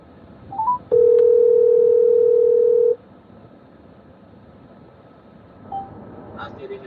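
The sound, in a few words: telephone dial tone while bridging a call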